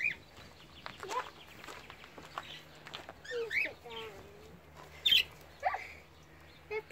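Small birds such as budgies chirp in an aviary on a farm, with bright chirps and short calls scattered among people talking nearby and a steady low hum underneath.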